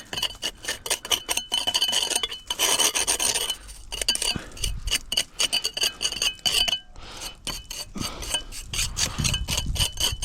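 Damp mortar joints in a brick wall are raked back in an awkward repair, heard as close, repeated gritty scraping strokes in an irregular rhythm with occasional light clinks.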